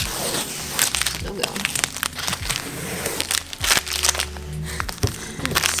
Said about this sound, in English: when you take the tape off. 20 layers of tape here.